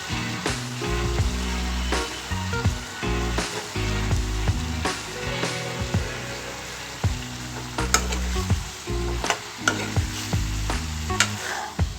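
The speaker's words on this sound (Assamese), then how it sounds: "কচুথুৰিখিনি ভজালে আমি ভাজি ল'ম ধুনীয়াকৈ গোটেইখিনি ইয়াতে মাংসৰ লগত" Meat frying together with taro stolons, a steady loud sizzle broken by repeated clattering scrapes and knocks of a spatula stirring the pan, with no talking.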